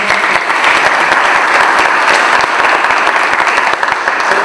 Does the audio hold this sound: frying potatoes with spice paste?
no